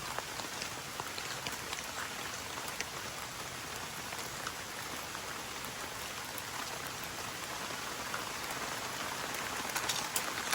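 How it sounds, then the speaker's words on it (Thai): Heavy rain pours down steadily and close by for the whole stretch, a dense, even hiss of drops drumming on surfaces with no break and no voices. "ตอนนี้ฝนตกหนักมาก"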